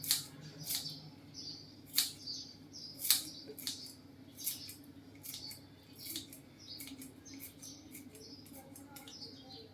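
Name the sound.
finely chopping coriander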